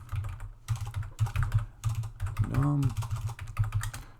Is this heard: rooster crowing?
no